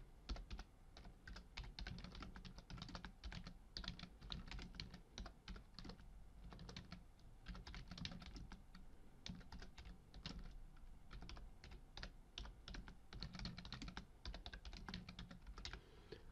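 Typing on a computer keyboard, with quick, irregular bursts of soft key clicks running throughout, close and quiet, with no talk.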